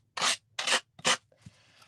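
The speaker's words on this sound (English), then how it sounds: "now I'm just going to sand these edges off right along here, just like this." Sandpaper rubs along the edges of an ornament in three quick, close, raspy strokes with short pauses between them, followed by a fainter scrape, with no talking.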